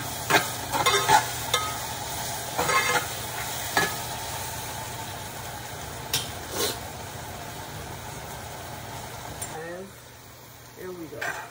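Pineapple caramelizing in a pan while a Sunday dinner is cooked, giving a steady soft sizzle broken by stirring and utensil scrapes at close range, with a voice talking over it.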